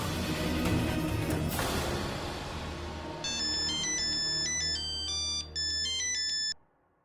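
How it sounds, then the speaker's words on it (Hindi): A phone ringtone plays during a call: a bright, repeating electronic melody rings loud and clear for a few seconds, pauses briefly, then stops abruptly, with no speech over it. "मैं आखिरी बार फोन कर रही हूँ"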